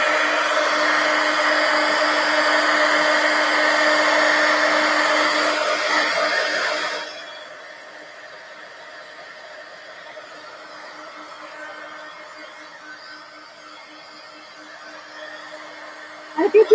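A dryer blows loud and close over a mixed media collage pumpkin, a steady rushing whir for about seven seconds before it cuts off, leaving only a faint low hum in the background.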